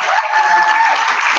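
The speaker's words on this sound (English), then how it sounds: "Can we have a big round of applause" An audience gives a big round of applause at the close of a museum talk, dense steady clapping filling the whole moment at close range.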